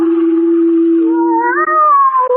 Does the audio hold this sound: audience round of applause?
no